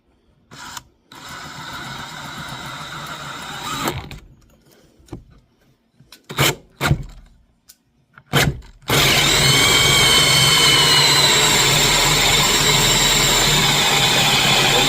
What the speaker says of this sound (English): about to drill the center of these birdhouse